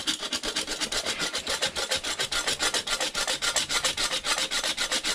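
A hand saw cuts during the fitting of a stainless steel 4-2-1 exhaust manifold, with quick, steady back-and-forth rasping strokes repeating rapidly and closely miked throughout.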